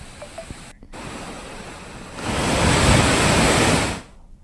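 Rushing floodwater from a swollen nala in Uttarakhand's hills after heavy rain, overflowing onto a road; a steady broadband roar that swells louder midway and then drops off, with no voices.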